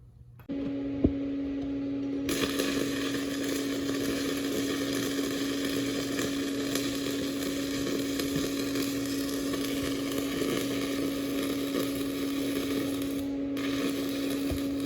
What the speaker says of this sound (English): this here is our 70-18 weld that we're doing